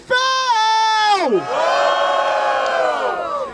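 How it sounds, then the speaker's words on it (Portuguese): A crowd at a rap battle semifinal in Barueri cheers and shouts, opening with a sustained unison yell that drops off, then loud mixed cheering and whooping close by. "Barulho para as rimas do Refel!"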